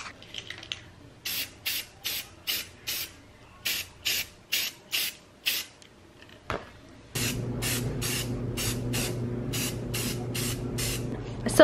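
Spray paint is applied in short, rhythmic hissing bursts to a Nissan 350z car part, about a dozen even sprays, then a pause and a second run of bursts over a steady background hum.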